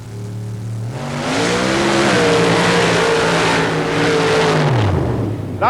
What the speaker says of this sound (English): He is riding high in the cockpit of Mud Shuttle 2. This is a Chevrolet power plant, 355 cubic inches.